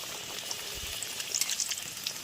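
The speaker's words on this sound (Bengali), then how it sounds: "এইবারে আমি কচুরিগুলো একটা একটা করে ভেজে নেবো" Club kachori fry in hot oil with a continuous close crackling sizzle and scattered bubbling pops, fairly quiet and with no talking.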